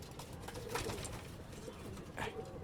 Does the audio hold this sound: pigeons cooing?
yes